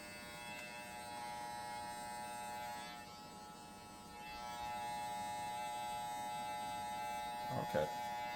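A Wmark NG-119 electric hair clipper running at 7,000 RPM with its lever closed, a steady close buzzing hum with a slight shift in pitch midway and a brief clatter near the end.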